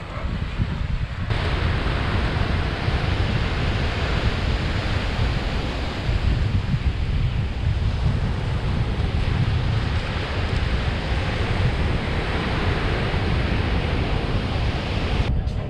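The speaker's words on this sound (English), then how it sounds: "We're on the beach, but no one here." Steady surf washes onto a beach in Mancora, Peru, a continuous broad roar of breaking waves with wind buffeting the microphone, loud and unbroken throughout with no talk.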